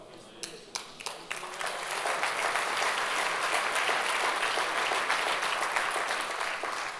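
A church congregation applauds during an Armenian sermon; after a few scattered claps, the clapping swells into loud, sustained, dense applause that fills the room to the end.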